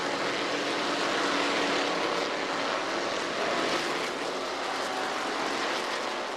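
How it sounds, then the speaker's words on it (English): Trans-Am race car engines roaring past at Laguna Seca during a battle for third place, a loud, steady wide-band engine roar sustained throughout with no talk. "What a great engine note."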